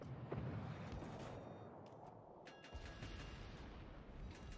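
Naval guns boom from warships in World of Warships Legends, a heavy rumbling salvo rolling over a dense, continuous battle din with no voices.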